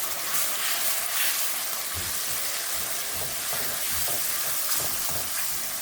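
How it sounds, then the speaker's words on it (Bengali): Spice paste of cumin powder, turmeric and salt fries in oil for a fish curry, a steady hiss of sizzling with soft scraping stirs throughout. "এই মশলাটা আমি সুন্দর করে কষিয়ে নেব"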